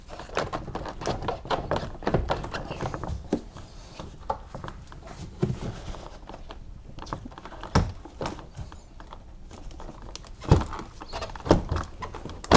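Interior door panel of a 2003 Hyundai Santa Fe front door being pried away from the bottom, a run of sharp plastic clicks, pops and rattles at close range, with bursts of louder snaps, no talking.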